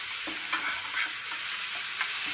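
Onions fry in a pan for a Bengali fish curry, a dense continuous sizzle broken by soft, regular stirring scrapes close by.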